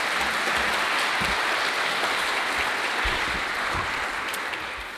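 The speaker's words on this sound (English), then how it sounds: "can we give one more round of applause to this team" A large audience at the Boettcher Foundation 75th anniversary scholar summit gives steady, dense applause that holds throughout and tapers slightly at the end.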